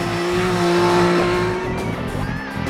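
A 2014 Triumph Street Triple's 675cc three-cylinder engine drones loud and close, a strong, even tone that holds steady and then shifts slightly, with no voices.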